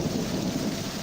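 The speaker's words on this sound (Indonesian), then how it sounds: "Tiba-tiba terdengar petir diikuti angin kencang. Lalu disusul hujan deras." A brief loud rumble of thunder blending into heavy rain and wind, a dense low roar with steady hiss of downpour over it.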